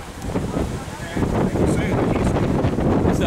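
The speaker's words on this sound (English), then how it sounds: "it's windy as fuck out here." Gusty wind buffets the microphone, roaring and rumbling in loud bursts that grow stronger halfway through.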